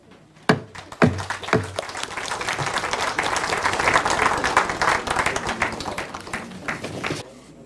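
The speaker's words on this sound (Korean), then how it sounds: "여러분들께서는 뜨거운 박수로 축하 인사를 해주시기 바랍니다." Applause from a crowd after a party floor leader election. A few sharp claps open it, then dense clapping builds, holds steady and stops abruptly, with faint voices underneath.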